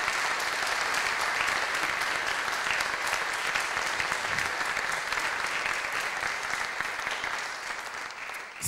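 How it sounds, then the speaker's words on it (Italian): An audience at a political speech applauds loudly and steadily for several seconds, a dense clapping wash that thins slightly at the end. "Applausi."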